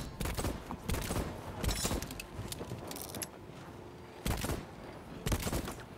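Gunfire in the Voidtrain game, with repeated sharp shots in irregular bursts, some in quick clusters and others spaced apart, fairly quiet overall with no talk.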